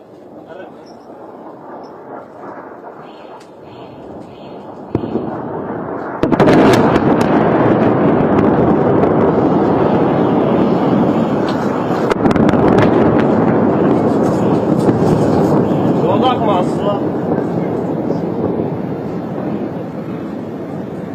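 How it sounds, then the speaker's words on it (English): Multiple explosions strike Beirut in news footage, heard as heavy broadband booms and rumbling blasts that erupt abruptly and keep roaring in a sustained, loud wash of noise. "There have been multiple explosions."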